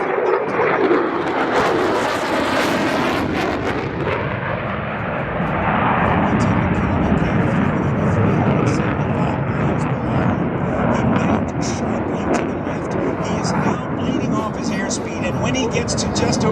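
Roar of a U.S. Navy F-35C Lightning II fighter jet flying a demo at the New Orleans airshow, a loud sustained engine rumble throughout with an announcer talking over it.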